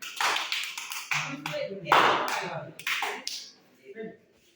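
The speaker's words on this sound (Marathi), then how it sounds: "एकच टाळी वाजवायची सगळ्यांनी" A group claps once together on cue in a sharp, brief burst, surrounded by lively overlapping voices.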